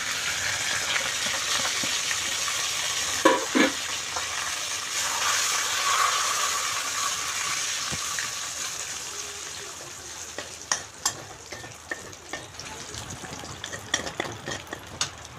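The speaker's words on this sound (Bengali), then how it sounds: "তেজপাতা দিলাম, শুকনো লঙ্কা দিলাম, জিরে ফোড়ন দিলাম" Bay leaf, dried red chilli and cumin seeds sputter in hot oil with a steady close sizzle and a few sharp stirring clacks, the frying fading lower in the second half as spoon taps continue.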